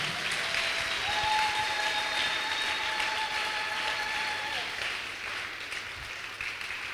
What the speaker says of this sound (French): Est-ce qu'on peut acclamer pour la sagesse de Jésus?